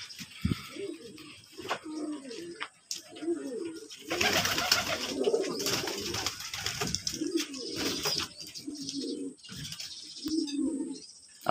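Red pigeons coo in repeated low throaty phrases at close range inside a home loft, with chirps and rustling mixed in and a person talking over part of it.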